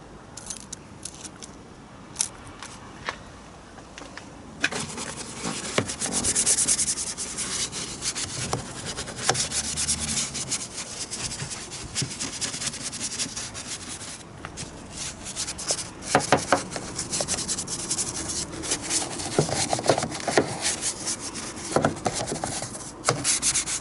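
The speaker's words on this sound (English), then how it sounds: "this is Reflex tyre and trim restorer. So I just put a bit on the brush." A brush spreading Reflex tyre and trim restorer over a car tyre, producing continuous close scrubbing and rubbing strokes with occasional sharper scrapes.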